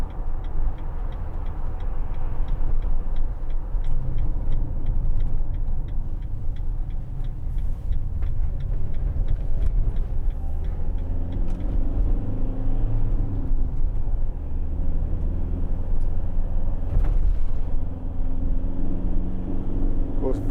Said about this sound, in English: vans drive better when there's something in the back than they do when they're empty